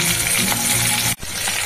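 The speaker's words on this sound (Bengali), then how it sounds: "ডিম পটল ভাজা" Pointed gourd dipped in egg crackles loudly in a frying pan, a continuous close sizzle with a brief dip near the end before it returns, and no voices.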